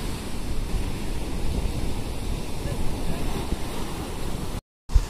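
Sea surf and wind roar as a fishing boat is pushed into the ocean for a day-and-night trip, a loud, dense wash of noise with a brief dropout near the end.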